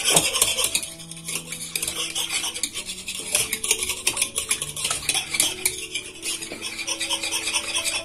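A spoon stirs warm water with baking powder and baker's yeast in a bowl, scraping and clinking against the sides in a steady, continuous rhythm, close and fairly loud over faint background music.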